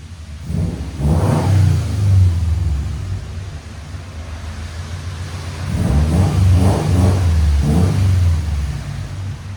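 A Subaru WRX STI 2.5L turbo engine revs hard twice through a throaty custom exhaust, deep rumbling bursts rising and falling close by, with idle between.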